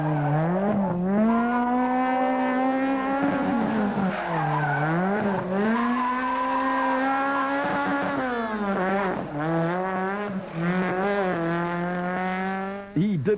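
A Toyota rally car races flat out on a tarmac stage, its engine roaring loudly and continuously while rising and falling through gear changes, with tire squeal and skidding through corners.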